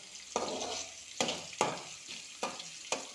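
Mustard seeds with a little fenugreek crackle in hot oil for a Kerala moru curry, giving about five sharp pops over a steady close sizzle, with no talking.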